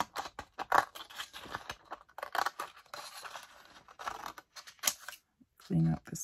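Scissors cut paper along a seam at close range in a string of short, crisp snips and rustles. A brief low voice comes in near the end.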